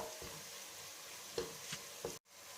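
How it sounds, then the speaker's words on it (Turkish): Mint, chili flakes and black pepper sauté in a pan of melted tomato and pepper paste, giving a faint, steady sizzle with a few soft stirring scrapes, before it cuts out abruptly near the end. "Naneyi, pul biberi, karabiberi biraz kavurdum."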